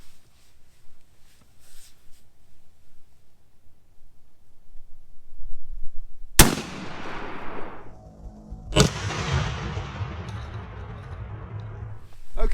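Two blasts from a Winchester SX4 shotgun firing Winchester 3.5 inch 2-shot shells outdoors, sharp loud reports a couple of seconds apart, each trailing off into a long echo.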